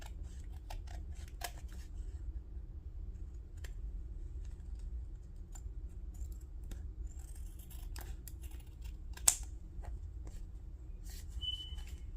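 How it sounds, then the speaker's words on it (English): Tea-stained paper being cut with scissors, a run of crisp, close snips scattered over steady low background hum, with no talking. "I'm literally just cutting this."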